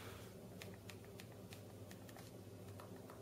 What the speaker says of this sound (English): I'm not very good at typing on this sort of keypad